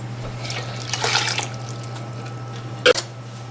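Water poured from a cup onto lentils in a pot while making tarka dal, a short splashing pour followed by quieter trickling and a single sharp clink, all over a low steady hum.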